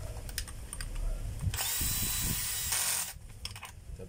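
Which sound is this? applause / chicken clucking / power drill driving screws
power drill driving screws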